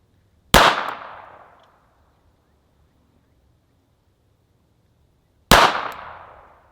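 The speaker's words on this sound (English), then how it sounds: "I'm just going to let her take some shots at that target" Two sharp gunshots from a new shooter firing at a target, each a loud close crack with a decaying echo, spaced about five seconds apart with near silence between.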